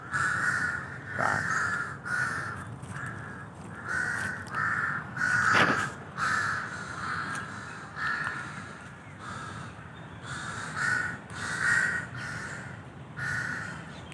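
Crows cawing in a Bangkok park, repeated harsh caws in irregular bursts across the whole stretch, several birds calling back and forth at moderate distance over low outdoor background.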